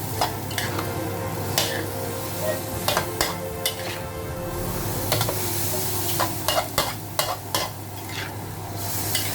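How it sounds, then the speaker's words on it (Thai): Bean sprouts stir-fried in a hot pan with a little fish sauce over high heat, a steady sizzle broken by repeated sharp scrapes and clanks of the spatula against the pan. "เอาผัดนานนิดนึงนะครับ ให้มันนิ่มนะครับ"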